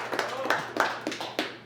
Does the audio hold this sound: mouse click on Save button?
no